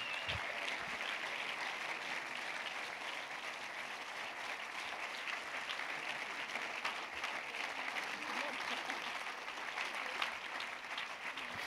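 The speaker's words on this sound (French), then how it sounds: "On les applaudit, mesdames et messieurs." Sustained audience applause at a festival closing-night ceremony, steady and dense for the whole stretch, a large crowd clapping without pause as staff are called onto the stage.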